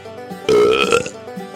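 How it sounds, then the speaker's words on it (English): A wet, gurgling belch played as a recurring clip on a country music news show, one short loud burp lasting under a second, with quiet room tone before and after. "the Undercountry Music News Wet Belch of the Week"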